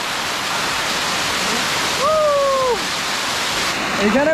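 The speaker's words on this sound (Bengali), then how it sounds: "এখানে বসতে মনে হয় যেন পানিগুলো এত প্রেসারে পড়তেছে, মনে হয় যেন উপর থেকে পাথর মারতেছে" Rupshi waterfall on the Komoldoho trail in Sitakunda pounds down heavily at the top of the falls, a close, constant roar of water. Brief rising-and-falling tonal calls cut through it midway and again at the end.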